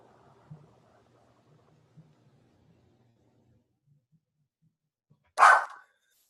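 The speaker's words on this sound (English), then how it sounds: "my dog is barking." A dog barks once, loud and close, in a short burst near the end, after faint low murmuring and small knocks.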